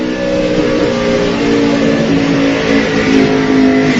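Onboard engine of a NASCAR Nationwide Series race car at Charlotte, a loud, steady, buzzing roar held at high revs with a slight waver, very close and filling the whole stretch.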